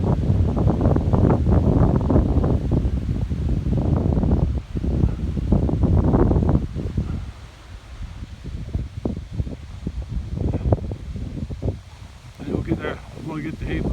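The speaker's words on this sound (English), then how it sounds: "I've been enjoying this cool wind." Cool wind gusts across an open hayfield on a pasture road, buffeting the microphone in loud rumbling bursts that ease and return, with a voice speaking over it.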